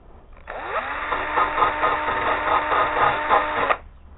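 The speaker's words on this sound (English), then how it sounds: "Ideally, you would hit this with sandpaper. I will use a wire wheel instead." A wire wheel scrubs the rubber surface of a Suzuki GN250 motorcycle tire in place of sandpaper, a steady loud whirring grind lasting about three seconds with a sharp start and stop and no talk.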